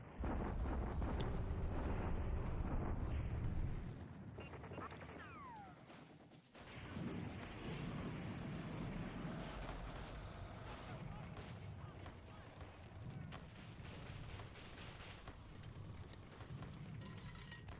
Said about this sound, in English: Continue to get the worst of the bombardment exchange, Clark.